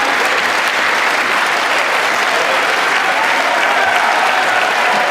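Sustained applause from a large crowd, a dense even wash of clapping that holds steady for several seconds.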